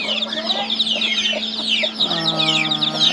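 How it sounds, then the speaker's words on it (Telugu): A hen with about twenty chicks makes repeated low clucks alongside a dense, continuous chorus of high chick peeps, all close and loud. "ఇంకొక కోడి దగ్గర ఒక ఇరవై పిల్లలు ఉన్నాయి"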